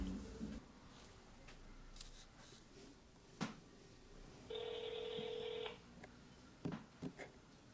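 A telephone number is dialled with one sustained keypad tone lasting about a second, framed by soft clicks and rustles of handling in a quiet room.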